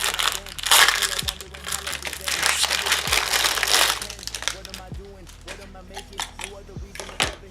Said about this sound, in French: Je vais les déballer comme d'hab.